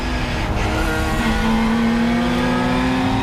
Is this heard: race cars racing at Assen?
yes